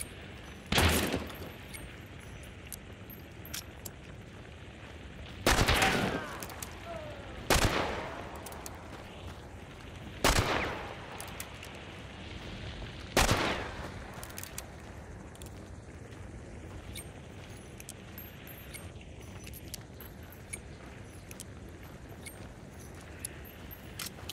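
Five sharp, loud gunshots ring out a few seconds apart from each other in the Hunt: Showdown 1896 video game, each with a short echoing tail, over quiet ambience and no talk.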